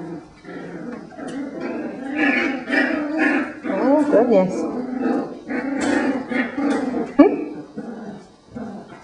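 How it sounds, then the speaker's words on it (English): Four-week-old puppies play-fight up close, yipping, growling and whimpering in busy overlapping bursts, with a person talking over the scuffle. "Puppy fight."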